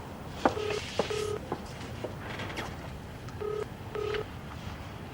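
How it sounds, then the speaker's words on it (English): A telephone ringing down the line, two pairs of short electronic ring bursts separated by a pause, faint over a background hiss. "Okay, it's ringing."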